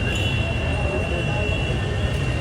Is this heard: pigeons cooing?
no